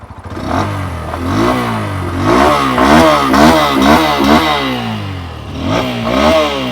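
A Bajaj Pulsar 125 motorcycle engine idles and then revs repeatedly as the throttle is opened and released, loud and close, with rising and falling pitch.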